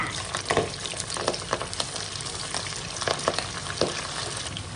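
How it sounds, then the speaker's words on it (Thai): Catfish pieces fry in hot oil scented with holy basil, a continuous crackling sizzle up close, dotted with sharper pops and spatters throughout. "จากนั้นก็นำปลาดุกของเราใส่ลงไปทอดได้เลยค่ะ"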